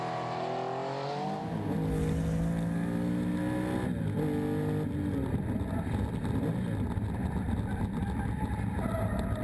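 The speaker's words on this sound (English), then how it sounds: "Let's get inside the Porsche of Douay and Cornelis." Onboard a Porsche rally car at the Legend Boucles de Spa on a slippery stage, the engine loud and close, revving and shifting through gears with rising and falling pitch, no talk.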